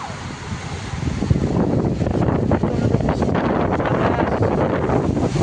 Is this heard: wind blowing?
yes